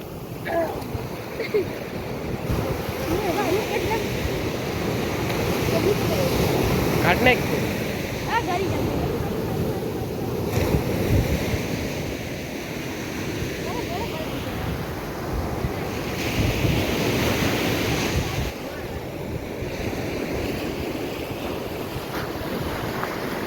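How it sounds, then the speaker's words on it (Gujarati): Sea waves break continuously on the shore at Madhavpur beach, a close, rolling surf wash under strong wind buffeting the microphone throughout. "દરિયે જો મોજું આવ્યું"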